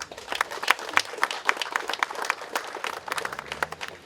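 A modest crowd applauds at a ceremony marking the arrival of locomotive 71-012 at a local museum railway, uneven clapping with distinct individual hand claps standing out near the listener, and faint voices in the background.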